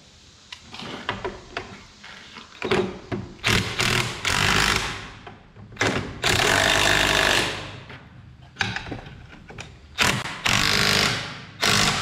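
Power tool tightening down deck plates on a planter, loud close bursts of whirring and rattling impact that stop and start several times, with clunks of handling between runs.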